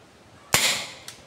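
A single loud, sharp bang from a homemade gun fired at a banana heart, with a ringing decay, followed about half a second later by a fainter short pop.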